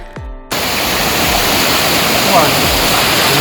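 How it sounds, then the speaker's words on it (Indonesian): A shallow river runs beside the Ranca Cangkuang campground, its water rushing in a constant, loud, close hiss that fills the whole stretch after a brief quieter start. "Suasana cukup syahdu karena dikelilingi oleh sungai dangkal yang mana kita bisa berkemah di pinggirnya."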